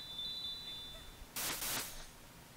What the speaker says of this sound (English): Chimecho rang the friendship bell.